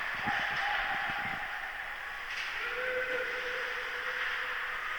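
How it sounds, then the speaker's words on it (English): During a U18 boys' ice hockey game, a referee's whistle sounds as a thin sustained tone, sounding again slightly lower, over faint arena murmur and some early thumps on the ice. "And now we've got a whistle."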